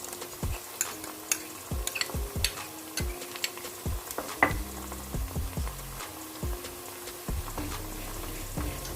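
Soft sizzling from garlic-ginger paste and green chillies frying in a pan, mixed with repeated stirring scrapes and clinks of a utensil, close and fairly quiet.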